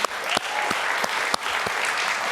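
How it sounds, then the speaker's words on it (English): Sustained audience applause fills a summit talk hall, dense steady clapping with a few sharper claps, no voices over it. "Guys, let's hear it one more time for Iliana."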